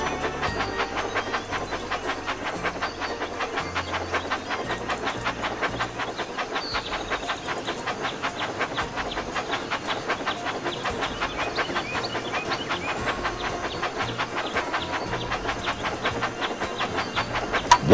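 A toy train engine in a Thomas the Tank Engine video game chugs along with a fast, steady clickety-clack rhythm and puffing, running continuously at an even volume with faint low musical tones underneath.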